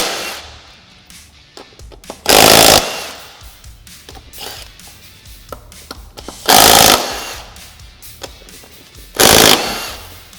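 Three loud, sustained bursts from a power tool, likely an impact wrench, spinning off Honda ATV front wheel lug nuts, each lasting about a second, with quiet shop clatter between them.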